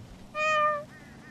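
A single cat gives one clear, drawn-out meow that rises and falls, followed by a faint second trailing meow, close by against quiet background noise.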